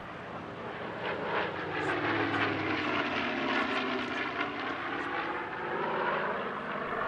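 A pair of Spitfire Mk VIII warbirds fly in an air display. Piston engines drone steadily and loud for the whole span, with a slowly shifting pitch as the aircraft pass.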